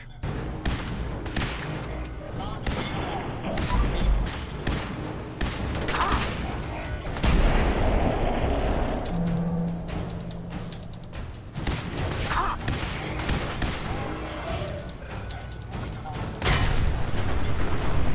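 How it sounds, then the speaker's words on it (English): Gunfire aimed at locked-up robots in the video game Fallout 4, repeated sharp shots in irregular bursts, loud and close, mixed with clanks and impacts through a busy stretch of game noise. "Finding some locked up robots, I take some easy shots."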